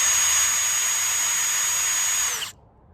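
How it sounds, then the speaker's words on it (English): A power drill with its bit boring through hardened JB Weld on a license plate holder whines loudly and steadily up close, then cuts off abruptly. "toss our drill bit in there and make sure your fingers aren't where they need to be for the drill to drill through them."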